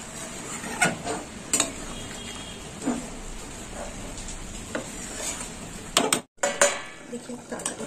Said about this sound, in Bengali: আর একটু ভালো করে নেড়ে ছেড়ে নেবো।